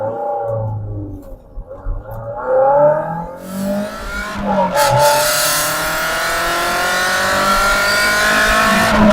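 MG TF sports car engine revving hard from inside the car, low idle burble then climbing sharply through the revs with a loud, sustained high-pitched pull and a brief gear change.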